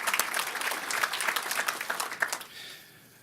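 Applause at a North Carolina commission meeting on law and justice, a moderate burst of individual claps with an uneven rhythm that thins out and fades near the end.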